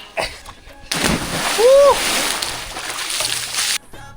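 A splash and sloshing water as something plunges in, close by, with a brief voice cry and background chatter.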